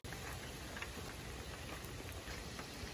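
Steady rain falls outdoors in a storm, a soft, even hiss of drops on surfaces with faint scattered patters, continuous and fairly quiet with no voices.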